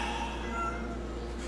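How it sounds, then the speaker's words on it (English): A cat meows from somewhere inside the walls in a drawn-out, muffled cry over a low steady hum. "I can't get over the fact that there's just a cat in the walls."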